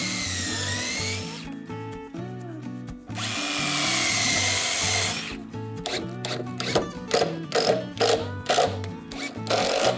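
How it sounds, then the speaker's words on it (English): A power drill drives screws through shelf ends into furring strips in a compact study, with two sustained close whirring runs and then a series of short rapid bursts and clicks. "I first screw both ends to the firing strips"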